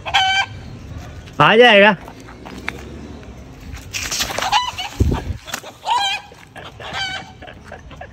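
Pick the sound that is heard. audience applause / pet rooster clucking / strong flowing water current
pet rooster clucking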